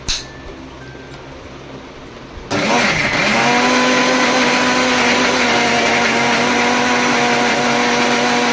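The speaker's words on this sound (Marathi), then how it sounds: "मी आता मस्त वाटून घेते." A mixer grinder starts with a sudden loud whine and keeps grinding a coarse masala paste for mutton at a steady, close, droning roar, with only faint background noise before it kicks in.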